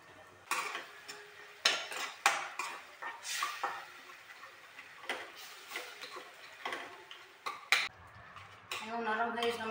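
Pasta is added to a pan with softened tomatoes and stirred with a utensil. Close, irregular scrapes and clinks of metal on the pan form a soft stirring rhythm over a faint sizzle, with brief talk near the end.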